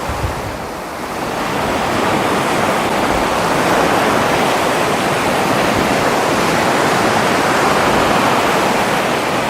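Waves breaking and washing up a sandy beach strewn with smooth rocks, a steady loud roar of surf with wind buffeting the microphone, continuous and close, with no voices.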